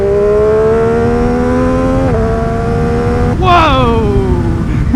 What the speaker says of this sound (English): There's a whole lot of rev range that I'm so not used to.